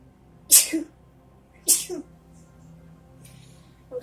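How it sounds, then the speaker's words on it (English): Two loud, close human sneezes about a second apart in a quiet room, followed by faint stillness. "I was silent there for a second because I didn't want to be in the middle of talking and then sneeze"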